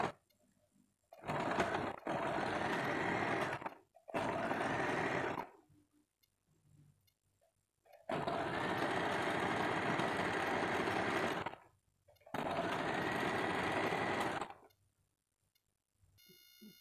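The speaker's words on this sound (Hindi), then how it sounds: "अब हम दोनों तरफ ऐसे सिलाई कर देते हैं।" A sewing machine stitches the sides of a Katori blouse in four loud, sustained runs of a few seconds each, separated by near-silent pauses, close up and with no talking.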